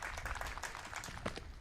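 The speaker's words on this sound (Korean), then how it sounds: "유기민 선수 박수를 받고 있습니다. 관중과 함께" Crowd at a men's triple jump final at an athletics meet claps for a jumper, a steady, moderately distant patter of applause throughout with faint talk mixed in.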